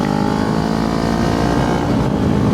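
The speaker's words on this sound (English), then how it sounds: "so far downshift, nice. Feels like it's easier to blip the throttle too for some reason." A motorcycle engine roars close and loud, rising with a quick throttle blip as the rider drops a gear, the revs surging briefly before settling back.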